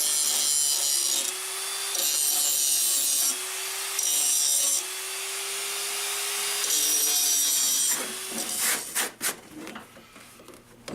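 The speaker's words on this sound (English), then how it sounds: "I'm gonna hit it real fast with the grinder" A grinder working on the auger of a Craftsman snow blower, loud steady whirring and grinding in pulsing passes for about eight seconds, then winding down into scattered clanks and rattles of metal handling.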